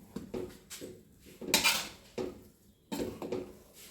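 A spoon stirs garlic pepper rice with capsicum in a pot, giving several soft scraping clinks against the metal in irregular bursts, fairly quiet and close.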